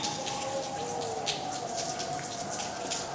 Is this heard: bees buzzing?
no